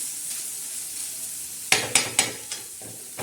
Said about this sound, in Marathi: आपण छान कांदा आणि हिरव्या मिरच्या हे छान परतून.